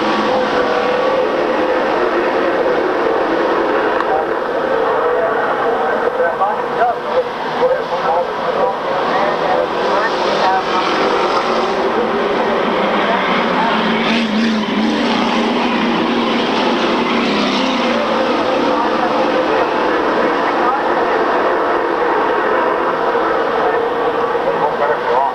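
Stock cars roaring through turn 4 of an oval race track, a continuous dense engine drone with crowd ambience and a commentator's voice over it throughout.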